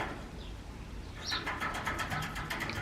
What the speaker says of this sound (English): think that's a magpie